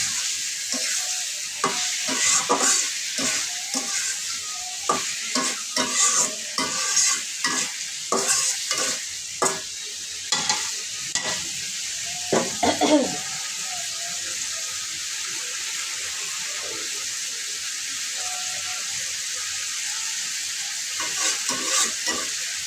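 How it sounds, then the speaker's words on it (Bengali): Fish and papaya sautéed in a pan, with repeated scraping stirs over a steady sizzle and occasional clatter, close and clear with no talking. "এই যে এখন কিন্তু মাছটাও কষানো হয়ে যাবে"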